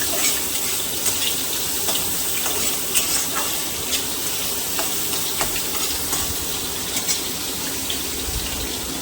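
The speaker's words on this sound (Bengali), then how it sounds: "পেঁয়াজটা একদম ভাজা হোক।" Chopped onion frying in hot oil, a dense, steady hiss and sizzle that runs loud and close throughout with faint scattered crackles, no voices.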